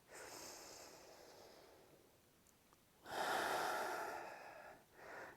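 Big deep yoga breaths during a core exercise, a long airy exhale fading over the first seconds, then a strong rushing inhale and a shorter breath at the end, close and loud with no talking.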